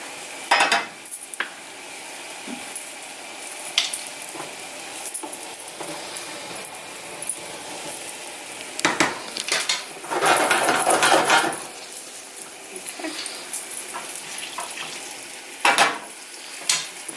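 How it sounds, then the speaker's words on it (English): Pine nuts frying in hot butter in a pan, about a quarter cup, stirred with a utensil: a steady soft sizzle broken by scraping and clinking stir strokes, heaviest for a moment partway through, with no talking. "Once it heats up a little bit, I add my pine nuts."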